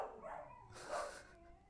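A dog barks while playing with another dog indoors, giving one or two muffled barks, moderately faint and a little distant, with no talk over them.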